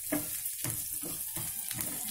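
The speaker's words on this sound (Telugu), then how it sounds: "అలాగే జీడిపప్పు కూడా మనకి రెడ్డిష్గా ఉంటే బాగుంటాయి, రెడ్గా ఇలా గోల్డెన్ బ్రౌన్ వచ్చే వరకు వేయించాలి" Cashew pieces and grated coconut fry in a pan until golden, giving a soft crackling sizzle with a few louder stirring scrapes in a steady rhythm, close and fairly quiet.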